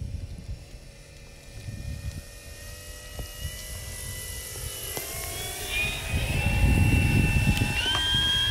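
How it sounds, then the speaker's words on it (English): A heavy Draco radio-controlled model airplane makes a slow flyby, its engine droning with a steady whine that shifts in pitch and swells louder as it passes nearby. "It will do a gorgeous slow flyby for a heavy plane as it is."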